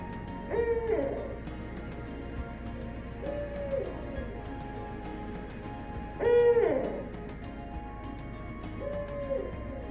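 A barred owl's hooting calls, with two loud rising-and-falling bouts several seconds apart and softer hoots between, over quiet outdoor background.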